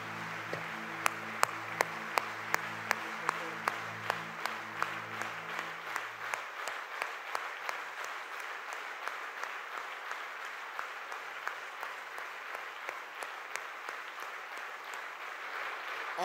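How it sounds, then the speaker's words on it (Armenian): A church audience claps steadily and rhythmically, the sharp claps evenly spaced and sustained throughout, with a soft sung tone underneath for the first few seconds. "բարձր ծափար իր Տիրոջը նարժանի է"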